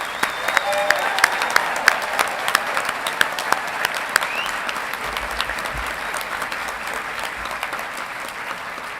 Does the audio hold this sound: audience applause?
yes